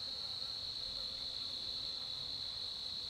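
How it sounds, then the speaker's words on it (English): Honey bees buzz while loading at an outdoor food source during wild bee hunting, a steady insect drone held throughout with no talking. "that bee went right in."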